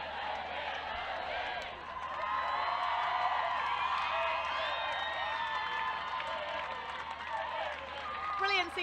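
A crowd cheers and applauds England's win at the 2015 U-19 lacrosse World Cup third-place match against Australia, a steady roar with whoops and clapping that swells midway and rises again at the end.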